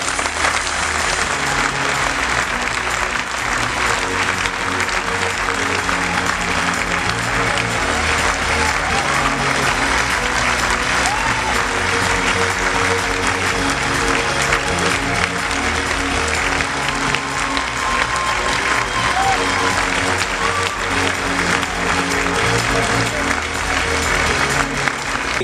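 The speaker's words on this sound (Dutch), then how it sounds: "En nu applaus voor de genomineerden van vanavond." Loud, continuous applause from a business event audience greeting the evening's nominees, a dense crowd roar of clapping with music or voices faintly underneath throughout.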